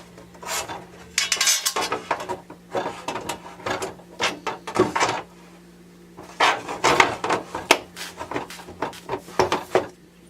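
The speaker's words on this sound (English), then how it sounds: "you're just going to go ahead and drop these 4 screws down through" Metal screws clink and rattle as they are dropped into the mounting holes of a motorcycle tour pack, giving a series of sharp, close metallic taps and jingles in irregular bursts, with short pauses between them.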